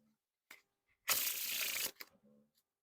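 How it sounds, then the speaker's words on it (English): A deck of Theory11 Spider-Man playing cards fanned out in one quick, papery ripple lasting under a second, bracketed by a couple of soft taps. "Now for the giant fan of the face cards."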